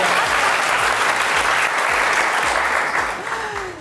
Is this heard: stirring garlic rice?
no